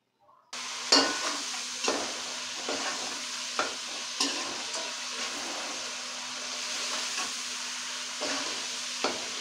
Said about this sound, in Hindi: अब हम चूल्हे को ऑन करेंगे और इनकी अच्छे से भुनाई करेंगे।